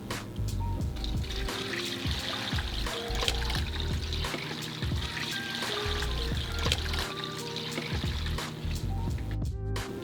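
Water pouring steadily into an 8-quart Instant Pot for bone broth, a continuous close trickling and splashing fill.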